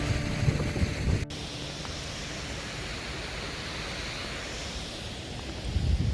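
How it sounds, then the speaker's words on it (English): Continuous rushing wash of a waterfall over rocks in Hagerman, Idaho, steady and fairly loud with wind buffeting the microphone and a brief dropout near the start. "another waterfall."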